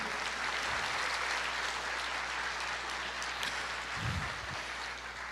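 A church congregation applauds steadily throughout, a continuous wash of clapping from many hands.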